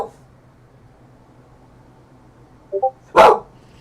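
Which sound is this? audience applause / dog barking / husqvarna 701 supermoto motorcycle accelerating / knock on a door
dog barking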